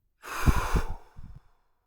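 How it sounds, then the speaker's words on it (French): A single forceful exhale through the mouth during a sophrology breathing exercise, a close, breathy whoosh lasting about a second, with no talking. "Soufflez fortement"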